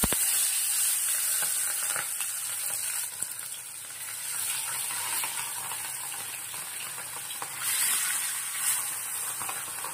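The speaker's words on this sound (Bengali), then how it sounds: "কড়াই তেলটা গরম হয়ে গেছে, তো এক এক করে মাছগুলো ভেজে নেব।" Katla fish pieces fry in hot oil in a wok with a bright, continuous sizzle that rises and falls slightly, close up and without speech.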